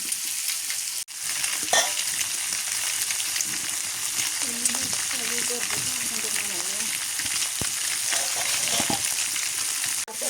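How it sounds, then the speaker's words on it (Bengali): Kalibaus fish fries in hot oil in a village kitchen for a fish curry: a loud, steady, dense sizzle with crackling spits throughout, and faint voices murmuring beneath it. "মাছ ভাজা"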